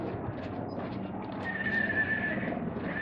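A dressage horse in training whinnies and neighs, a loud, wavering high call sounding close over a dense, rumbling background. The call rises in the middle and continues to the end.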